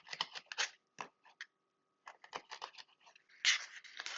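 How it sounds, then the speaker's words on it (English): Fresh, pliable vanilla beans being cut with a knife or scissors, a close series of crisp snips and scraping cuts in short bursts separated by brief pauses, quiet and dry. "These are really fresh vanilla beans, so they're a little bit harder to cut through"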